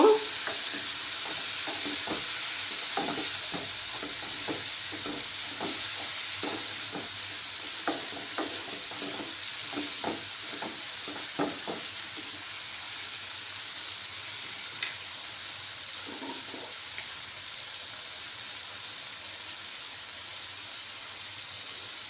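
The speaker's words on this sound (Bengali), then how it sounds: "দিয়ে মশলাটাকে ভালোভাবে কষিয়ে নেব।" Spice paste with a little water sizzles steadily in a pan for a fishhead curry, with repeated scraping stirs in the first half and occasional clinks later.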